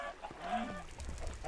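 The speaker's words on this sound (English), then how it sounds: "there's chickens down there. That's what's making all the ruckus." Chickens in Minecraft on an FTB modpack mob farm, a few short clucking calls close by, faint and brief against a low background hum.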